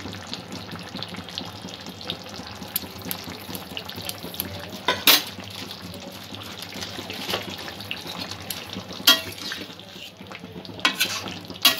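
A spoon stirs shol fish curry with beans and other vegetables after garam masala goes in, wet scraping and sloshing through a simmering gravy, with steady bubbling and a few sharper knocks against the pan.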